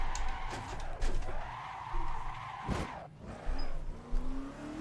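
A NASCAR stock car in the racing game Assetto Corsa crashes at Riverside, with tires squealing through a long skid and engine roar over steady race audio.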